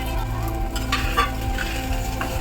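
Roasted okra tipped into hot oil and stirred, a continuous sizzle with scraping and clinks from the spoon against the pan, close and fairly loud, no speech.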